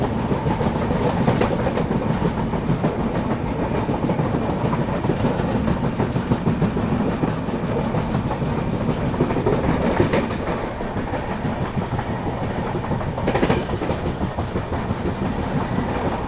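A Konkan Railway express train rolls along steadily, its wheels clacking rhythmically over the rails with a constant loud rumble and occasional sharper knocks, heard from on board with no voices.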